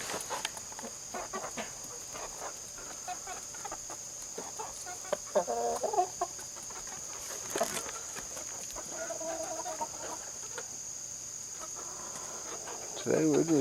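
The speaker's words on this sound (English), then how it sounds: "Today we're just hanging with the Australorps. I love the Australorps. They're a really good hardy bird." Australorp chickens clucking in a yard, scattered soft clucks and brief squawks over a faint steady insect hum, with occasional louder calls near the end.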